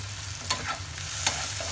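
Kashmiri red chili powder, garam masala and salt being stirred together in a frying pan, steady sizzle with two distinct spoon scrapes, close and without talk.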